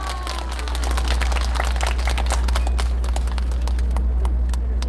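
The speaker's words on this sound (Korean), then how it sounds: "여러분 큰 박수로 환영해 주십시오" A crowd at a Korean political rally applauds steadily as a speaker from Jeju steps onto the stage, a dense, continuous patter of many hands over a low hum, with no talking.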